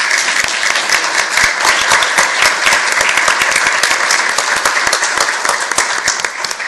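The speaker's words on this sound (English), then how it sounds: "Would everyone who's here from Norwich please stand so we can applaud you?" An audience at a school board meeting claps together in a dense, loud burst of applause that holds steady for several seconds before thinning slightly at the end.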